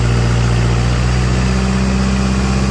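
A tractor engine runs steadily at about 2100 rpm, a loud, close, constant low rumble and drone with no change in rhythm and no talking.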